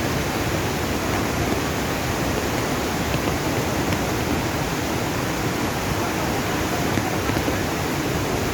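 A continuous, full rush of mountain runoff after rain pours steadily with an unbroken hiss-like roar, close and constant, with no breaks or voices over it.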